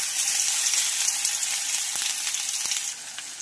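Ginger garlic paste sizzling in hot oil with cumin seeds, a bright continuous frying hiss with a few sharp crackles, close and steady throughout with no voices.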